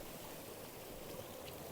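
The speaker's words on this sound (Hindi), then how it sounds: "इस तरफ पानी का फ़्लो बिल्कुल बन रहा है।" Mountain stream water flows in a continuous, steady rush near Khyber, a broad even wash with no talk.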